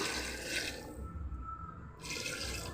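Water is poured from a tumbler into mutton seasoned with salt, turmeric and ginger-garlic paste for biryani, a quiet splashing stream that pauses briefly then resumes.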